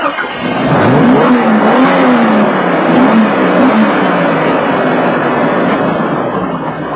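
Race car engines roar and rev loudly at a NASCAR-style start, one sustained, rising and falling engine note that holds steady for several seconds.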